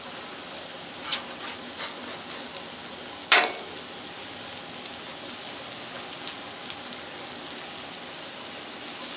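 A grilled onion smashburger patty sizzles after flipping, a steady close frying hiss with a sharp scrape and clatter partway through and small pops scattered across it.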